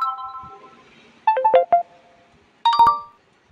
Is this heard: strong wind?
no